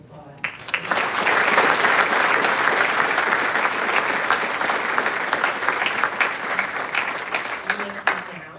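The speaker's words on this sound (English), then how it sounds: "Please join me in a round of applause." A crowd at a school class day ceremony applauds honor society inductees with sustained, dense clapping that swells quickly and holds for several seconds before fading, heard up close and loud.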